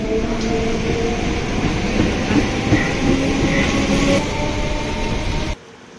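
A local suburban train in Chennai rolls past on the Tambaram line, a loud, steady rumble of wheels and carriages with faint clatter and brief squeals, running continuously close by before cutting off abruptly near the end.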